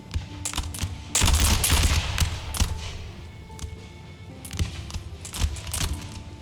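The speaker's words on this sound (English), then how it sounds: "3 ranks deep are ready to fire. Get a nice volley in." Infantry three ranks deep fire a musket volley in an Empire battle game, a ragged burst of overlapping shots followed by scattered individual cracks and thumps across the battlefield, loud and without speech.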